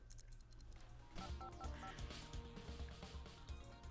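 Telephone dialing in The Sims 2 life-simulation game as a call is placed to hire a maid, a short run of soft electronic key-tone beeps over faint game background music, quiet and without speech.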